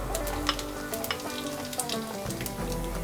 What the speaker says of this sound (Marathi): हे वाटण जरासं परतून घेऊया।